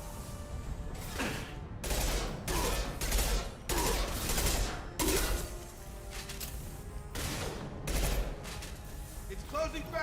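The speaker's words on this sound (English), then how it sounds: "Firing an impact shot." Loud bursts of gunfire in the Mass Effect video game, an impact shot among repeated heavy volleys and crashes that come in clusters across the scene, with voices talking in between.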